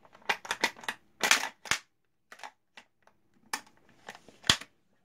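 Parts of a Benelli M4 Tactical 12-gauge semi-automatic shotgun are pushed back into place, giving a quick run of sharp, close metallic clicks and clacks with short pauses between them and no talking.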